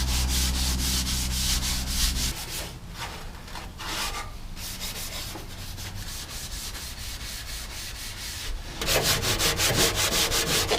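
A scrubby pad rubs back and forth over the front bumper and frame of a 1973 Scout II, a close, rhythmic scratchy scouring that starts over a low running hum, pauses briefly, then resumes.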